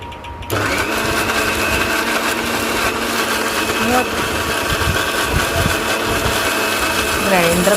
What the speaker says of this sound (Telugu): కొంచెం కొంచెం బెల్లాన్ని అయితే తీసుకొని మొక్కజొన్నల్ని మిక్సీ పట్టుకోవాలి